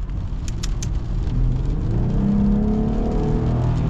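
The V6 of a 2024 Jeep Gladiator Rubicon X pulls hard from a brief rattle into a loud climbing engine roar, its pitch rising steadily as the truck gains speed.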